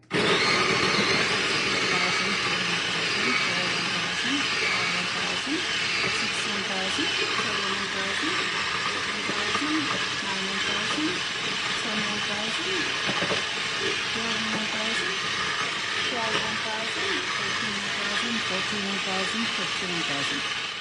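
An electric mix-and-twist food chopper runs steadily with its lid locked, chopping potsticker filling in a continuous dense whirring roar for about fifteen seconds, with no pauses.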